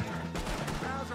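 Gunfire in Red Dead Redemption 2, a quick burst of several shots in close succession over about a second, under a continuous background of game sound.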